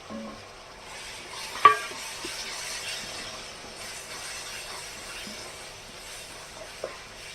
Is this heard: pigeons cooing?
no